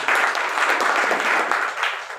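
An audience at a direct-selling business plan meeting breaks into a short burst of applause, a crowd of hands clapping together that swells, holds and then begins to fade.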